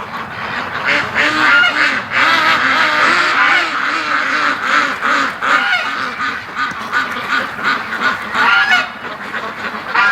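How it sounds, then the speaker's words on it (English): Muscovy ducks and geese crowd together outdoors by a small puddle near a lake, a dense, continuous chorus of overlapping honks and quacks filling the whole stretch at close range. "The geese are about to get swarmed by ducks."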